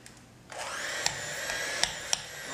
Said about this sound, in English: Take a hand blender.